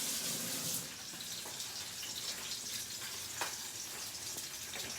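Salmon frying in a pan, a steady broadband sizzle with crackling and a brief sharper pop, louder for the first second then holding even.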